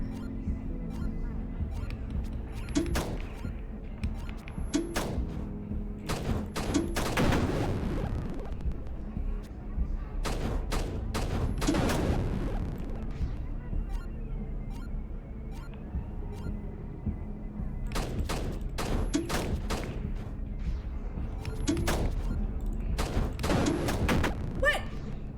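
Gunfire in a video game, with sharp bursts and clustered shots cracking out in several volleys against a quieter, hum-filled background.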